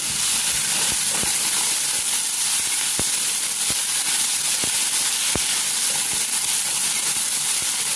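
Spring onion greens roasting in a hot pan give a steady, even sizzle and hiss throughout, with a few faint clicks and taps of a utensil scattered through it and no talk.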